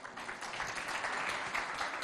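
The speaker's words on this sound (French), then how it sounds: "On applaudit bien fort." Faint, distant applause from an audience at a school event, a soft continuous patter of clapping that holds steady throughout.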